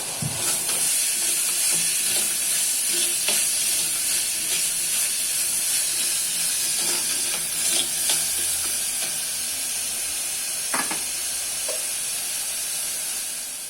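Onions and tomatoes sauté in a pan for egg kulambu, a steady loud sizzle and hiss with occasional stirring scrapes, continuous throughout and without talk.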